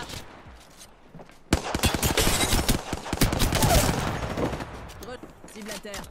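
Rapid bursts of automatic gunfire in Apex Legends, a dense sustained volley of loud close shots that cuts in abruptly and tapers into scattered cracks, with voices faintly beneath.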